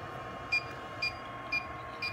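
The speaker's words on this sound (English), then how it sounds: "Each test strip has its own alarm in the chamber" A canine P4 progesterone analyzer test chamber sounds its alarm, four short high electronic beeps evenly spaced about half a second apart over a steady background hum.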